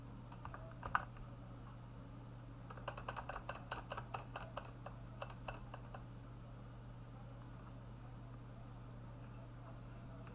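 Computer keyboard typing in bursts of quick keystrokes, clustered near the start and middle, fairly faint over a steady low hum.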